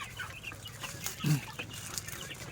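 A lone chicken gives a brief low cluck against a steady outdoor background hiss.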